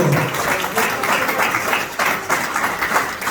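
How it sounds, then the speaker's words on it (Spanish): A church congregation claps in praise of the Lord, a moderately loud burst of applause that swells in uneven waves. "¿Cuánto le da un aplauso al Señor?"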